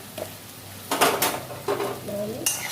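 Spices with chili powder fry in a pan, brief sizzles mixing with a few scraping stirs and light metal clinks of a utensil against the pan, close and fairly quiet.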